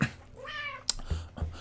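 A cat meows in a long, drawn-out cry up close, followed by a short sharp click and a couple of low thumps, with no talking.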